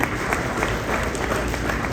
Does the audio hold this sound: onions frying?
no